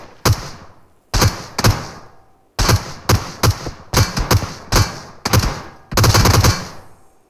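Rapid bursts of gunfire crack in quick clusters, sharp and loud, with short pauses between volleys, like automatic weapons in a game.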